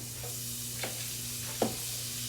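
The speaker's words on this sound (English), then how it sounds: "now we're gonna add a bunch of butter to it" Butter melting in a hot pan while making crab cakes, a soft steady sizzle with two brief scraping stirs, quiet and close, no speech.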